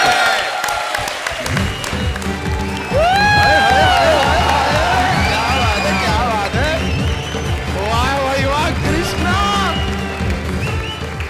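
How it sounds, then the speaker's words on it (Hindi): A studio audience at a Comedy Circus taping claps and cheers loudly and steadily throughout, a dense wash of applause with whoops and music-like tones riding over it. "हम सब बजा देखेंगे। ताली।"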